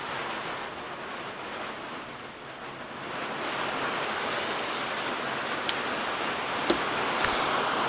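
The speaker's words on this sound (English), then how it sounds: "As it begins to pour down here." Heavy rain pouring down outdoors, a dense continuous hiss that swells slightly partway through, with a few sharp ticks and taps near the end.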